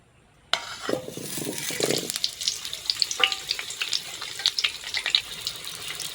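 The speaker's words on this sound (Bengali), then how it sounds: "প্রথমে ঘি দিয়ে আমি আলুটা ভেজে নেব" Washed, cut potatoes drop into hot ghee with a sudden loud burst of sizzling, then keep frying with crackles, pops and spatula stirring, close up and without voices.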